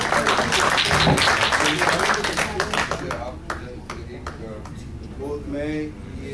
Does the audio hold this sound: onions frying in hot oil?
no